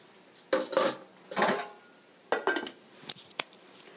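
Drained boiled potatoes tumble into a kitchen bowl, giving a few separate clattering thuds and clinks of the pot and bowl, close and moderately loud, with quiet pauses between.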